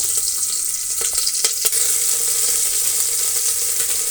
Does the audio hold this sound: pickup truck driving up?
no